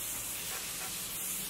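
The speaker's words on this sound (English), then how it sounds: "We're going to go ahead and spray our face with this Eau de Raisin" A grape water face mist sprays from a pump bottle in one close, steady hiss lasting over a second, heard alone without talk.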